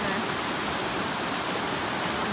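Rushing water roars steadily at a stream crossing along the Pacific Crest Trail, a loud, close, continuous broadband wash with no voices over it.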